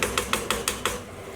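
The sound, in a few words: stirring and scraping curry sauce in a pan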